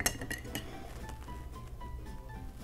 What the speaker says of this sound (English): stir real good